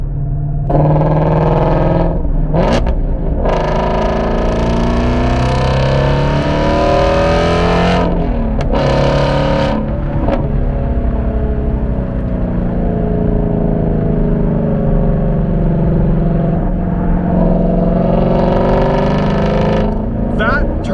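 A Ford Mustang Shelby GT350 in sport mode pulls hard on the road, its engine revving loudly and steadily for the whole stretch, with rising and falling pitch sweeps as it climbs through the gears and brief shifts in between.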